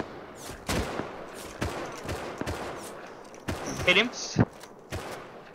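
Semi-automatic rifle fire in Rust pops in a string of sharp single shots, some close and some more distant, while players talk over the gunfire.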